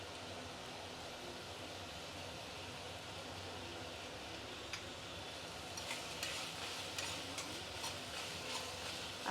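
Ivy gourd (kovakkai) frying with salt in a pan, a steady loud sizzle throughout, with light stirring scrapes and clinks joining toward the end.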